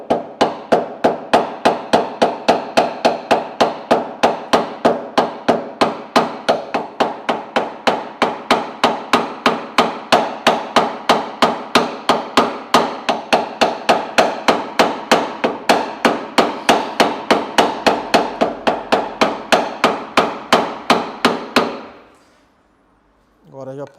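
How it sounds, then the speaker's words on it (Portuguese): A wooden block is struck steadily against a car body panel during paintless dent repair, giving a long run of sharp, evenly spaced knocks at close range that stops abruptly near the end. "Vou pegar aqui a madeira para bater um pouquinho mais firme."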